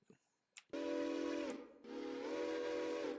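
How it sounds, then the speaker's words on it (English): A New York Central Hudson steam locomotive whistle in Railroader sounds in two long, loud blasts, with a brief pause between them and a short chirp beforehand. "Whistle is of a New York Central Hudson."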